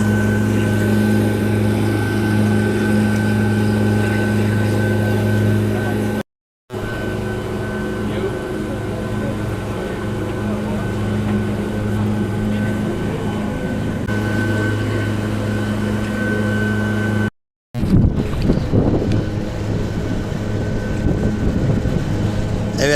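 Steady engine drone and hum of a glass-bottom tour boat's motor running continuously on the Red Sea off Sharm el-Sheikh, Egypt, with brief cutouts and a rougher, splashier wash near the end.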